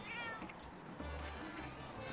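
A cat companion in a video game meows over a dense, steady layer of game background noise.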